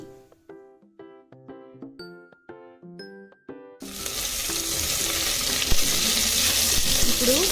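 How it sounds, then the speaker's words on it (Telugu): Finely chopped green chilies and onions frying in a pan for chicken fried piece biryani, a steady loud sizzle filling the second half after a stretch of quieter music, with no talk over it. "సన్నగా తరిగిన పచ్చిమిర్చిని ఇందులోనికి యాడ్ చేసి ఆనియన్స్ని కూడా ఇందులోనే వేసి బాగా ఫ్రై అవ్వనివ్వాలి"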